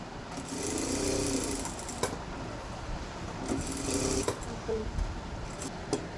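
Sewing machine stitching around the neckline of a readymade blouse, a faint, continuous whirring run with small clicks, heard close in a quiet room.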